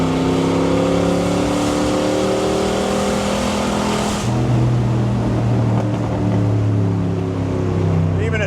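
A Corvette accelerates hard through a turn, its steady engine drone shifting lower and louder midway as the throttle opens, with road and wind noise filling the cabin throughout.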